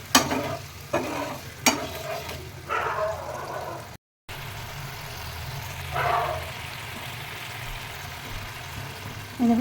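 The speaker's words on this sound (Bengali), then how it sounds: "কি সুন্দর ফুটছে।" Matar paneer curry bubbling in a pan after water is added, a steady low simmering hiss with a few sharper bursts of bubbling and stirring near the start and again around the middle.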